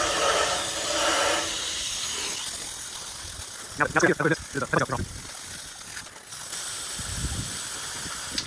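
A steady hiss of a steamer spraying water onto an ice dam on a shingled roof runs throughout, with a brief burst of speech midway and the hissing continuing alone afterward.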